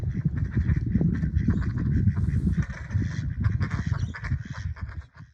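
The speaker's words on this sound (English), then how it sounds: "Two more ducks have flown in." Several ducks quack repeatedly in a noisy, overlapping chorus, fairly close, with honking calls mixed in and no speech.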